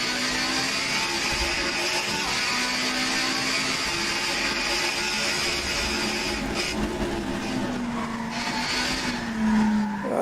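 A truck in the American Truck Simulator game brakes too late, its tires skidding and squealing over a steady, droning engine that runs for the whole stretch with no talk.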